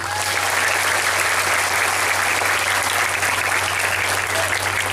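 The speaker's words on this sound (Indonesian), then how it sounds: "Tepuk tangan untuk Darul Iman" Sustained, loud applause from a parents' seminar audience at Darul Iman boarding school in Srikembang, Palembang, a thick even wash of many hands clapping steadily with a low hum beneath and no talk.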